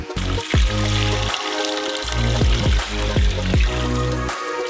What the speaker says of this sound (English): Fill with water up to the top.